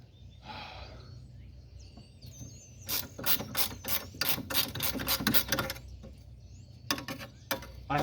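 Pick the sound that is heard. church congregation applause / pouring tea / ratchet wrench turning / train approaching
ratchet wrench turning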